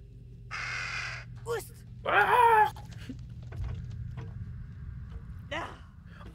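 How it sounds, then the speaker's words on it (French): Crows caw twice in The Dark Pictures: Little Hope, harsh calls standing out against a low game ambience, while a player gasps and reacts in French nearby. "C'est des corbeaux."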